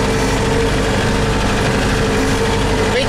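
An engine runs at a steady, rough idle close by, a dense low rumble with a continuous vibrating drone and no break, and no one speaks.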